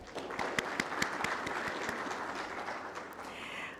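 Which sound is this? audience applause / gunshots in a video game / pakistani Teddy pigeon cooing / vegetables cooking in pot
audience applause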